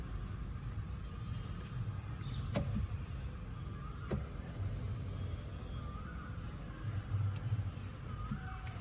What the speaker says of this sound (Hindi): ये सेकंड वाला है जो आपकी सीट को ऐसे आगे ले जाता है